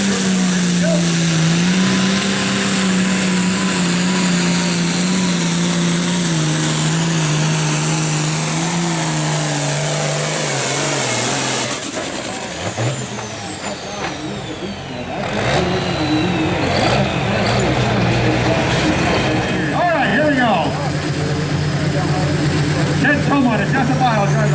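A 9,300 lb limited pro stock pulling tractor at a tractor pull in Tripoli, Iowa roars loudly at full throttle, easing off briefly midway before surging again, with voices faintly over the engine.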